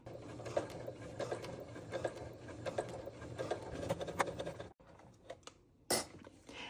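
A sewing machine top-stitches around a quilt's folded binding, running a steady rhythmic stitching chatter for about five seconds before stopping, followed by a few light clicks and a brief rustle.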